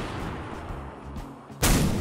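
A 135 mm bomb in Garry's Mod detonates in a single loud, sudden blast near the end, after a quieter low rumbling stretch.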